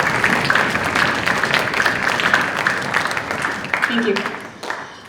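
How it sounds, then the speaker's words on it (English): Audience applause fills a school auditorium after a 6th grade band and orchestra concert, a loud, steady wash of many hands clapping that tapers off near the end while a voice briefly speaks over it. "Can we give them a round of applause?"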